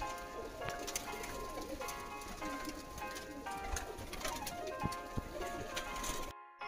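Domestic pigeons of a carefully kept breed coo steadily and close by in a loft, with overlapping soft calls and faint fluttering and shuffling continuing without pause until the sound cuts off abruptly near the end.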